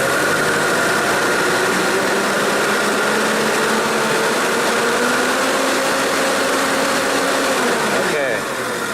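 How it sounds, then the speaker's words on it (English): A Hyster forklift truck with a low-power fault runs nearby, its engine a steady droning hum with a faint rising whine that drops away near the end. "truck is running now again"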